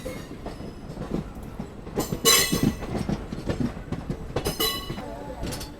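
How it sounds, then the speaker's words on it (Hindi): Alco diesel locomotives shunting in the Vadodara station yard, with rumbling wheels, metallic clanks and bursts of squeal over a steady rail background, heard from a nearby train. "एल्को लोकोमोटिव्स फिलहाल तो शंटिंग कर रहे हैं यहाँ पे"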